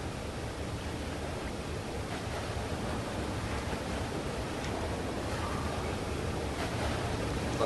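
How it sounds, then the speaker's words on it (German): A steady, broad rush of flowing water in the video game Limbo fills the scene evenly, with no talking, a constant hissing roar throughout. "Jetzt wird das Wasser aber ganz schön laut."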